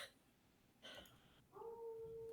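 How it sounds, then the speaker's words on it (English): Wolf howls in a video game, a rising, tonal cry that starts after a short burst of noise and holds steady and fairly loud to the end. "the howls of the wolf go"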